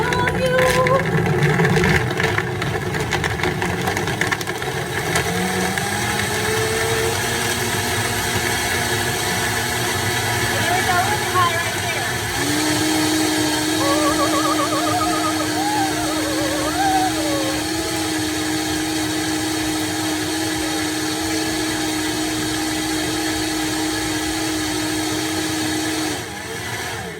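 A Vitamix blender whipping up a berry smoothie runs loud and steady for the whole stretch, its motor pitch stepping upward partway through as the speed is raised, with a voice talking faintly over the whir.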